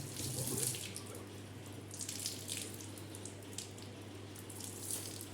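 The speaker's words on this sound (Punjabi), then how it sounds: "ਆ ਦੇਖੋ 5 ਲੀਟਰ ਦੀ ਪੂਰੀ ਕੈਨ ਭਰ ਲੈਣੀ ਆਪਾਂ" Tap water runs steadily into a 5-litre can, a soft continuous splashing and gurgling with a faint low hum beneath, heard at moderate distance without talk.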